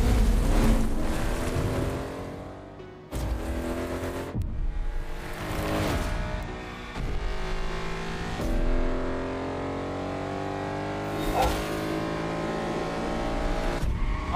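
A car engine drones steadily in the racing video game The Crew Motorfest, its pitch rising and falling as the car accelerates and shifts, with brief cut-offs and no voices.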